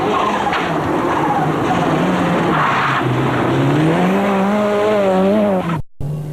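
Ford Sierra RS Cosworth rally car on a Circuit of Ireland 1987 stage with its suspension needing sorting, engine revs rising and falling loudly close by with tire squeal, ending in an abrupt cut.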